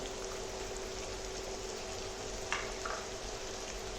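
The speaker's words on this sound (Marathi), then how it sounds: "आपला तेल गरम झाला की याच्यामध्ये इथे मी एक कांदा कापून घेतलेला आहे एकदम बारीक कापलेला आहे कांदा हा घालत आहे" Finely chopped onion sizzles in hot oil on a tawa, a steady soft frying hiss with a few brief crackles partway through.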